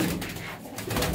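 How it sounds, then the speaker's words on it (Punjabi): Domestic pigeon cooing up close just before release, a soft steady murmur running through the whole short stretch with no talk. "ਕਬੂਤਰ ਇਹ ਇੱਥੇ ਛੱਡਣਾ"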